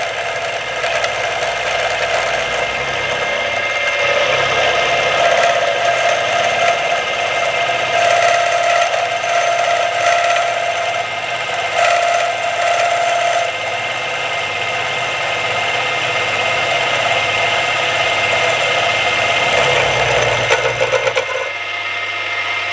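A power tool machines aluminium during a DRO install, a loud steady whirring and grinding drone with intermittent higher tonal whines, running continuously for over twenty seconds before winding down.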